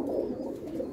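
A flock of roughly 70–80 black-eyed Mirab pigeons, kept for flying competitions, coos in a low, steady, continuous murmur close by, with no talking.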